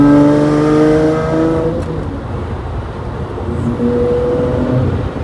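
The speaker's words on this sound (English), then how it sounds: "The howl of this V12" Lamborghini Murcielago LP640 V12 revving loud and close, its rising harmonic howl falling away in a brief downshift, then climbing again after a short lull.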